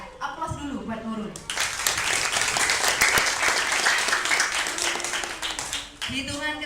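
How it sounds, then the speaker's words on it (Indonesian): Classroom applause for a student at an Indonesian madrasah lesson, steady clapping from the whole class lasting several seconds, with talk before and after. "Ya, aplaus dulu buat Nurul."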